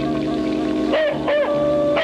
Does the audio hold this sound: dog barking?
yes